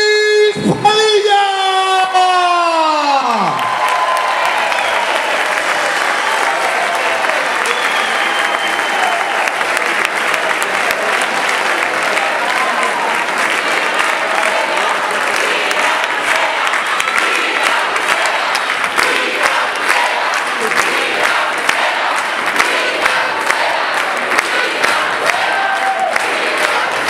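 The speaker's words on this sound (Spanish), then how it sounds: "¡Aplausos!" An audience at a political rally in Gran Canaria bursts into sustained, loud applause with some cheering, continuous clapping filling the space after a brief rising tone at the start.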